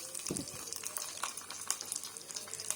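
Cutlets frying in a pan, a quiet continuous sizzle and crackle with a brief clatter near the start.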